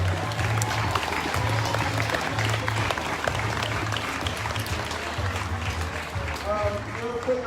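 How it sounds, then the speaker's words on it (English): A crowd at an outdoor community march for Black lives claps and cheers steadily, with sustained applause throughout and voices mixed in. "Let's give him another round of applause for Brother Simone."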